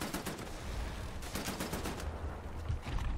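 Gunfire rings out during a Wolfenstein: The New Order shootout, with dense, loud shots and explosive blasts filling a noisy game soundscape throughout.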